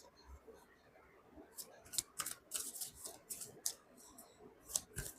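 Tarot cards riffle and snap in quick crisp bursts, close and fairly quiet, with brief pauses between shuffles.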